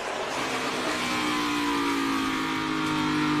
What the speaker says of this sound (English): It's a drag race to the checkered flag.